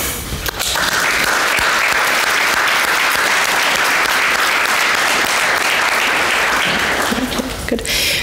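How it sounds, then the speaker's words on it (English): Applause for the panelists at a session on public and private sector partnership against financial crime, a loud, steady round of clapping from the audience lasting several seconds and tapering off at the close. "let me thank our panelists with a good round of applause"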